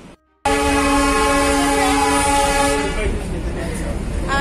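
A loud, sustained whistle from the Darjeeling toy train blares with steady harmonic tones for about two and a half seconds, then fades into rumbling rail noise and clatter.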